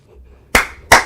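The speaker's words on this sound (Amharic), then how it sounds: "አጨብጭብ።" Two sharp hand claps ring out close and loud, roughly a third of a second apart, after a short quiet pause, with no talking over them.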